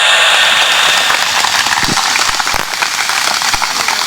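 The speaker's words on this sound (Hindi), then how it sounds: "बहुत एक बार माता बहनों के लिए तालियां बजाओ।" Dense audience applause fills an evening comedy show at an outdoor charity event, a loud sustained wash of many hands clapping together with a few sharper individual claps standing out.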